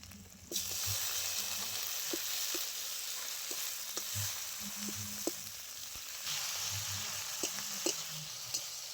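Chopped tomato drops into a hot pan of frying onion, ginger and garlic paste, setting off a steady, close hiss of sizzling oil with scattered sharp scrapes of stirring, and no voices.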